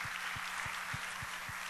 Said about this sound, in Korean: 우리 다 같이 한번 인사하고 크게 박수하겠습니다